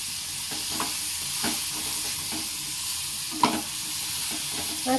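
Slit chilies fry in a pan with a constant bright sizzle, punctuated by soft scrapes and knocks as a spoon stirs through the oil, close up and uninterrupted.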